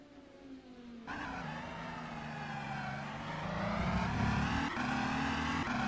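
Race car at the Le Mans 24 Hours heard onboard, the engine note climbing and shifting through gears, growing louder and harsher as it accelerates, with no talk.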